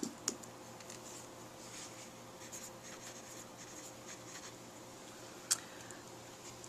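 Soft, faint scratching of a pencil on paper continues steadily, with two sharp little clicks standing out, no voices.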